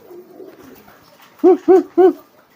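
Three loud, rounded homing pigeon coos in quick succession, close up, after a stretch of softer, lower cooing.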